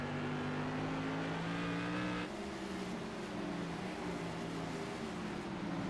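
Race car engines roar loudly and steadily during a laps-long race on track, with a shifting engine pitch as cars pass and change gears, up close and continuous.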